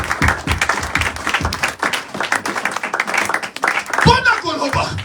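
A church congregation at a Sunday service claps in a dense, steady patter of hands lasting several seconds, mixed with loud voices speaking and calling out.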